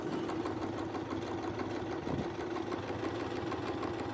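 A sewing machine stitching fabric along a Westalee quilting ruler, running as a steady, even mechanical whir at moderate volume without pause.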